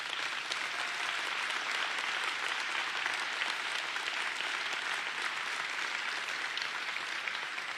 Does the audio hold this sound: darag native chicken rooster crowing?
no